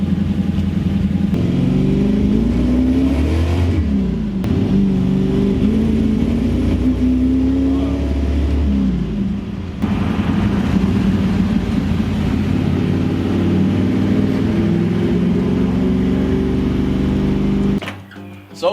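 A 1967 Mustang with a 347 stroker engine revs hard and loud, its pitch rising and falling repeatedly as the ignition cuts in and out, ending in an abrupt drop near the end.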